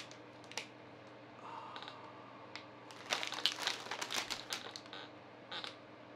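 Plastic wrapping of an Oreo Marshmallow Moon cookie pack crinkles and crackles under handling, with quiet scattered rustles building into a denser burst of crinkling near the end, close and fairly soft.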